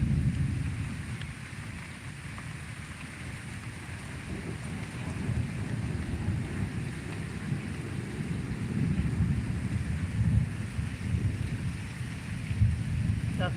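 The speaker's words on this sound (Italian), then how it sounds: "Con i fulmini però dico, una pioggia proprio." Heavy rain from a night thunderstorm with lightning near the sea pours in a continuous dense hiss, with low rolling rumbles underneath. It is fairly distant and soft.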